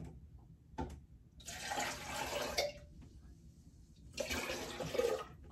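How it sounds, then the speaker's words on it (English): Liquid coffee solution is poured into a silicone enema bag in two splashing, gurgling bursts separated by a short pause, close and fairly quiet. "I'm just gonna go ahead and pour this in my bag."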